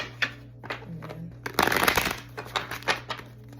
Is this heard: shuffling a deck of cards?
yes